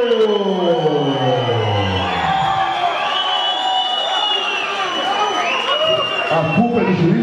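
A crowd at a badminton match in Campinas cheers and applauds with whoops and shouts, a commentator speaking over the noise.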